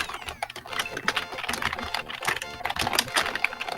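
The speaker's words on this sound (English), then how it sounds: "this ASMR typing is a lot too much" Rapid keyboard typing clatters steadily through a tense Escape from Tarkov tournament match, its dense run of clicks mixing with game sounds and talk throughout.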